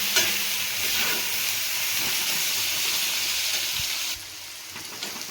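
Onion sizzles and fries in a pan for a Bengali cabbage bharta, with steady bright hiss and occasional stirring scrapes, loud and close, easing a little near the end.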